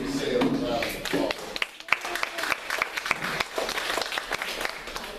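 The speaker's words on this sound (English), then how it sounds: "Give yourselves a round of applause" Faculty at a staff meeting applaud themselves, quick dense clapping mixed with cheering and chatter that keeps rising and falling over several seconds.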